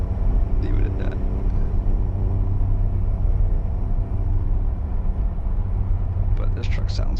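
A modded big-rig truck in a convoy trucking game drones with a steady, low engine rumble throughout. It runs continuously at a constant level, with a few brief higher clicks near the start and end.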